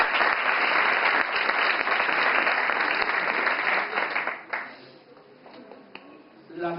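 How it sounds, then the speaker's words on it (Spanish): Conference audience applauding at a university talk, a thick burst of clapping with a faint steady tone behind it, dying away midway into scattered claps and a quieter room. "que también les damos un aplauso."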